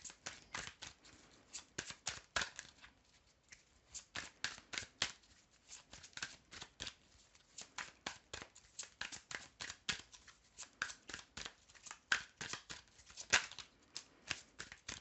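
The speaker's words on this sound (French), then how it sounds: "Donc, je tire une carte et je développerai tout à l'heure" Tarot cards are shuffled by hand close up, a long run of quick papery riffles and taps in uneven bursts, quiet and with no talking over them.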